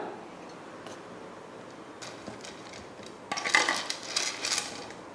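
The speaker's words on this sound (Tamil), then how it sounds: "கடாய் வச்சு எண்ணெய் ஊற்றிக்கலாம்" A kadai is set down on the stove for frying bitter gourd, giving a few light metallic ticks, then a cluster of louder clanks and scraping rattles near the end, close and clear.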